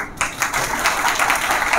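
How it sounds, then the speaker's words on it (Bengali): A group claps for their leader at a gathering, a short burst of dense applause that starts after a brief pause and holds at an even level, close by. "লিডারের জন্য আগে একবার হাততালি।"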